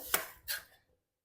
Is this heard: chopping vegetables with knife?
yes